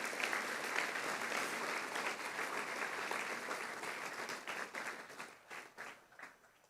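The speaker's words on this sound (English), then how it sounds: "I might give a round of applause for the students on stage." A school assembly audience applauds students on stage, steady dense clapping that thins and breaks into scattered claps near the end, with no talk.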